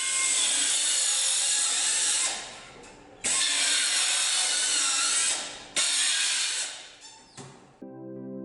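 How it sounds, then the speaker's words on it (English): Hacksaw cutting through the protruding bone of a prosciutto ham, heard as loud, continuous rasping strokes in long sustained bursts with brief pauses between them, ending with a few short scrapes. "the ancetta or the emerging part of the bone is also cut down with a hacksaw"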